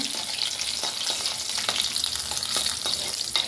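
Cashews frying in a pan until golden brown on low heat give a steady, close sizzle with occasional light stirring clicks throughout, and no voices.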